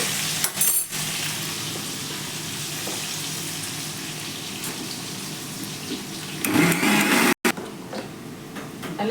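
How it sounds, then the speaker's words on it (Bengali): Cut papaya and potato pieces fry in a pan with a steady, close sizzle that holds throughout. Brief louder clatters and bursts break in near the start and end, and no one talks. "এবার একটু কেটে একটু লাল লাল করে ভেজে নেবো।"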